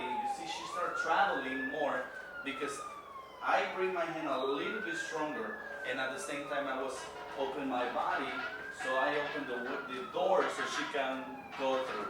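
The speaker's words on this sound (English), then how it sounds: "so you can hear the sirens outside" Emergency vehicle sirens wail outside near New York City, a rising and falling tone sweeping up and down three times under someone talking steadily over music.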